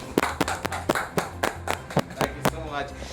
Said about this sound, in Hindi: तालियां बजाने सब